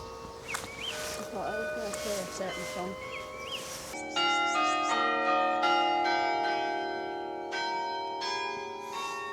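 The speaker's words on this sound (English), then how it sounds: "lovely to hear the bells" Church bells ring out in Dunfermline beside a garden walk, a voice talking at first before loud, repeated overlapping bell strikes take over and ring steadily with a long shimmering decay.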